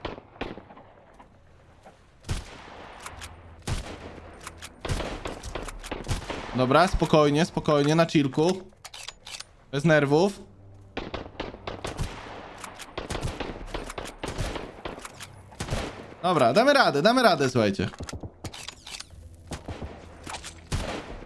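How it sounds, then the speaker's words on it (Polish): Scattered gunfire in the survival game Sunkenland, with sharp shots popping in irregular bursts near and far while someone talks over much of it. "Strzela, ale nie wiem skąd."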